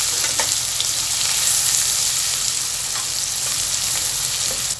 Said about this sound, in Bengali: পেঁয়াজের কুচিটাকে আমি একটি হাতার সাহায্যে নেড়ে বাদামি কালারের মতো করে